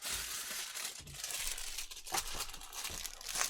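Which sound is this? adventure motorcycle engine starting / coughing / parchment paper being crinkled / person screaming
parchment paper being crinkled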